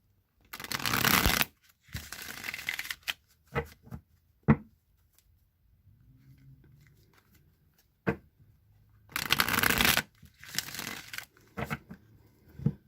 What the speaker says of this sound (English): Now I'm going to shuffle the Rider-Waite deck a few times